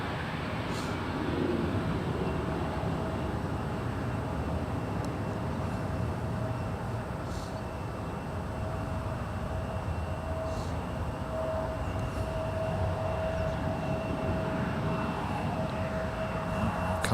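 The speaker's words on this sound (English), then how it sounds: "We have a Southwest 2270 coming in from San Diego" Southwest airliner arriving at San Francisco International Airport, a steady distant roar of jet engines holding under broad outdoor noise for the whole stretch, with a faint constant whine.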